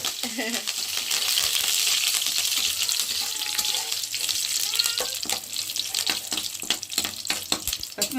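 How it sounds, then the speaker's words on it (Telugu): A tempering of spices and curry leaves fries in hot oil, making a continuous crackling sizzle that turns into sharp, irregular pops and spatters toward the end. "కొత్తిమీర మన పోపు కూడా బాగా వేగేసిందండి"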